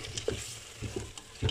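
Potatoes fry with chicken in a pan, a steady close sizzle broken by several soft stirring scrapes and clatters.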